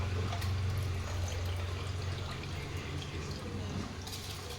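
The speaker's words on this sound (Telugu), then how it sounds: "పక్కన చూడండి వాటర్ మసులుతుంది" Water seasoned with biryani masala boils steadily in a cooking pot, a continuous low bubbling rumble with a faint hiss, fairly close and unbroken.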